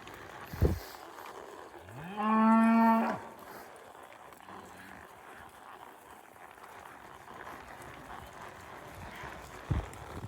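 A single loud cow moo rings out near a farm drinker amid a working cattle pen, with faint background noise and occasional thumps before and after.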